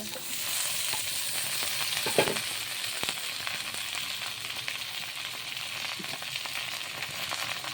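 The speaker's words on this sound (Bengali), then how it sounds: "তেল দিয়ে দেব, দিয়ে কেটে ধুয়ে রাখা আলুগুলো ভেজে নেব।" Steady, dense sizzling of cut potatoes frying in hot oil in a wok, continuous crackle with occasional louder pops and stirring sounds.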